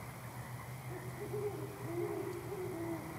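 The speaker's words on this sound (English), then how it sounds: "There's 2 owls." Two owls hoot in a graveyard at night, their low wavering calls repeating softly at a moderate distance over a steady hum of background noise.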